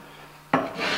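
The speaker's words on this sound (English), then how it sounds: "I pass across here, you can see I'm getting very, very fine shavings" A hand tool passes across a wooden board, taking whisper-thin shavings; after a quiet start comes a sudden close, airy rasping stroke, then a second longer scraping pass, alone with no talk.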